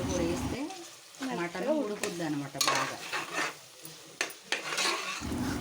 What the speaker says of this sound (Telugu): చూడండి అది కూడా చక్కగా పచ్చి వాసన పోయేంత వరకు దాన్ని కొంచెం సేపు ఆ ఆయిల్లో మగ్గ పెట్టుకుందాం